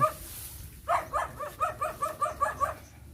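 A dog barks in a quick run of about eight sharp, evenly spaced barks at moderate distance, with a low background hum underneath and no talking.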